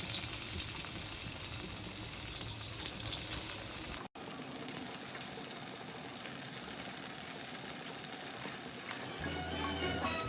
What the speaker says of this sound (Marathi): तर त्या मी आता तेलामध्ये सोडत आहे.